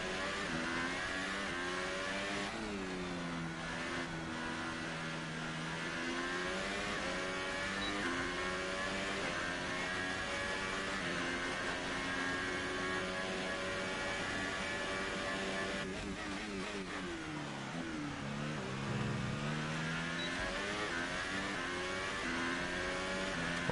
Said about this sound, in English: You can probably hear the engine making some strange rattles.